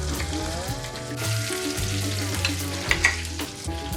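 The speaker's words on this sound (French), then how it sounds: "Et moi, je mets mes suprêmes à dorer." Pigeon supremes sear in a very hot pan with a spoonful of oil and butter, giving a steady close sizzle with brief louder spits and crackles near the end, no talk.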